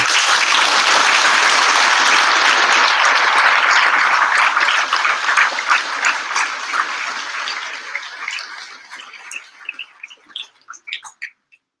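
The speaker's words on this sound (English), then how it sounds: "But I think we should give them all a huge round of applause." A graduation audience applauds the graduates with loud, sustained clapping that gradually thins out, ending in a few scattered, isolated claps.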